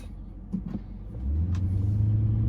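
A Chrysler 300S fitted with a Pedal Commander throttle controller in city mode pulls away, its engine rumble swelling into a steady, deeper drone as it accelerates, heard from inside the car.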